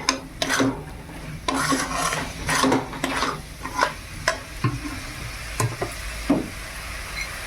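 A spoon scrapes and stirs melting jaggery in a pan with quick, uneven strokes, a soft sizzle running beneath the close rubbing sounds.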